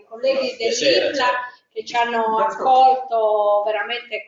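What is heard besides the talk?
No everyday noise stands out behind the speech.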